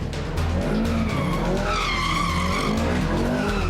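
Tires on a Ferrari California squeal and skid across a slippery road, a loud wavering screech rising and falling over the steady engine drone for a few seconds.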